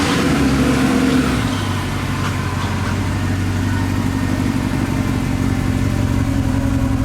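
A Mercedes SLS AMG engine revs hard and loud close by, then settles into a steady, rumbling drone as the car pulls away and drives on.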